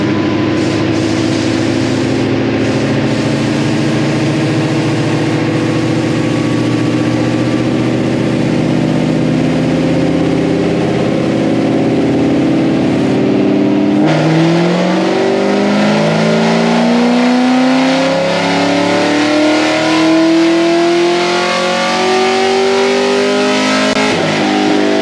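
A supercharged Callaway Corvette fitted with Texas Speed headers running on a dyno, loud close engine droning steadily before climbing in a long rising rev through the gears, with no talking.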